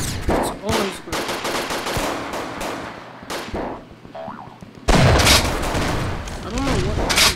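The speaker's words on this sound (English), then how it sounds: "I'm being shot at." Rapid gunfire in the Ragdoll Engine video game, with loud bursts of automatic shots and scattered single pops, interrupted briefly and then resuming louder, with talking now and then.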